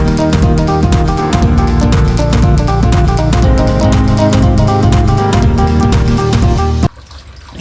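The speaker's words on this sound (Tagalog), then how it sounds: "hugas na plato" Dishes are washed under a running tap in a home sink, with loud, steady splashing water and repeated clinks and clatters of plates close by, then the sound cuts off abruptly near the end.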